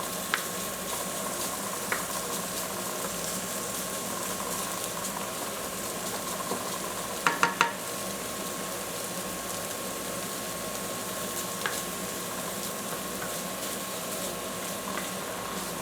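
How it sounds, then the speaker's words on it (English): Cut-up shrimp sizzling in a hot pan, a steady faint frying hiss with a few soft clicks and utensil taps, no voices. "we're going to want to add our cut up shrimp into there to start cooking it"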